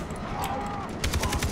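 Rapid automatic gunfire bursts from a Far Cry 3 co-op shootout crackle in quick succession, fairly faint and dense, with some voice underneath.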